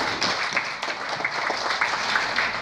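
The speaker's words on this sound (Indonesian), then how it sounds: "boleh saya minta tepuk tangannya?" Audience applause at an Indosat Ooredoo business gathering fills the room, a steady, dense wash of many hands clapping at moderate distance for the full stretch, with no talking over it.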